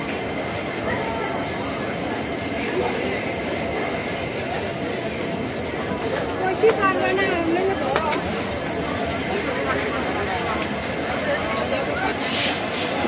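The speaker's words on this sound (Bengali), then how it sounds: "এখানে যে ট্রেনটা আমরা দেখতে পাচ্ছি সেই ট্রেনটা কিন্তু যাবে আগরতলা থেকে ধর্মনগর।" A train rumbles steadily at a busy railway station in Agartala, a constant low hum under crowd chatter and voices throughout.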